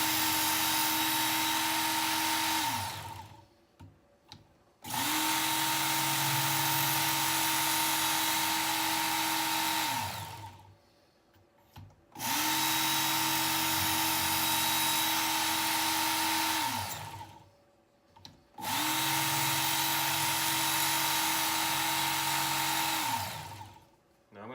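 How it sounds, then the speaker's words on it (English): A Work Sharp Ken Onion Edition belt sharpener grinding an inexpensive machete runs in four sustained whirring passes, each a few seconds long with short pauses between, steady and close with no talking. "you can seriously sharpen any size knife with this thing"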